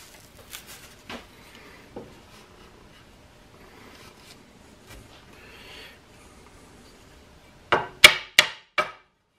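A hammer taps on wood while fixing a stripped-out wood screw hole. Four sharp, loud strikes come in quick succession near the end, after a stretch of quieter rubbing and handling noises.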